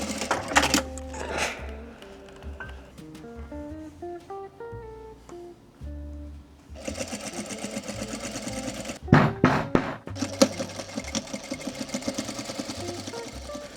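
Sewing machine running in repeated bursts while stitching denim shorts, a steady mechanical whir with needle chatter, near and loud, alternating with quieter tonal passages in the first half.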